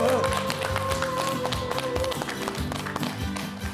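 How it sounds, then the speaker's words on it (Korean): Audience applause and cheering at a TV stage show as a pan-flute-playing Latin singer is introduced, with steady clapping mixed with music and a voice speaking over it. "큰 박수와 환호로 네. 함께해 주시기 바랍니다."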